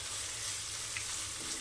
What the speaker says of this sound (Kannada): ಈಗ ಚೆನ್ನಾಗಿ ಫ್ರೈ ಮಾಡ್ಕೊಳ್ತಾ ಇದ್ದೀನಿ